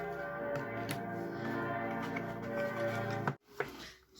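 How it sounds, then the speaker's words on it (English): Bells of a Catholic church across the street ring out in sustained, resonant tolls with repeated strikes, heard at a moderate distance before briefly dropping away near the end. "The Catholic Church opposite my house, they are ringing their bell."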